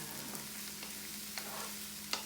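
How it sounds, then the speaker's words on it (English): Mushrooms sauté in a pot with a faint, steady sizzle and a few soft scrapes and knocks of stirring, the last one a sharper clink. "What you want to do with these mushrooms is you want to saute them, get them nice and brown."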